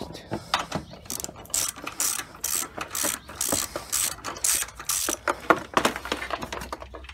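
Ratchet clicking steadily as 10mm bolts are backed out of the windshield washer fluid reservoir on a Chevy Sonic, a close, rhythmic series of sharp pawl clicks in short bursts without pause.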